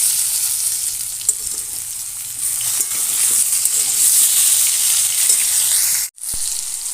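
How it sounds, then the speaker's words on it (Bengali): Potatoes and tomato sizzle steadily in hot oil in a pan for a jackfruit curry made without turmeric, with a constant bright frying hiss, a few soft stirring scrapes and a brief drop in sound near the end. "সবটাই আমি লাল লাল করে ভাজছি"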